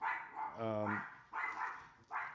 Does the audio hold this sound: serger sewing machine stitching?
no